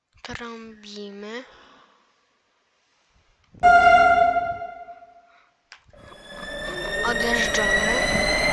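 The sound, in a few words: metro train horn sounding in Roblox video game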